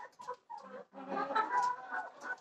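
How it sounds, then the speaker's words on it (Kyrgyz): Breeding hens in a poultry house cluck in short repeated bursts, a brief pause giving way to a denser, louder stretch of clucking from several birds nearby. "Булар тукум багатындагы тооктор."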